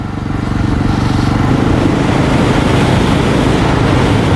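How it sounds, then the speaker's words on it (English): Off-road motorcycle ride, a steady loud engine drone with heavy wind rush that holds continuously from start to finish, no talking over it. "The other reason why I like this bike is that it's not inviting to be stupid on the bike"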